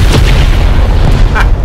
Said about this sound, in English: Drop the bomb.